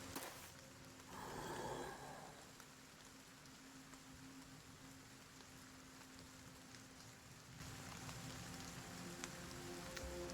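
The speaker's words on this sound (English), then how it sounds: "that is not helped by the fact that it's also raining, which has a debuff" Steady rain pours across a battlefield in the video game Battle Brothers, a continuous hiss that stays even throughout and swells slightly louder near the end, with no talk over it.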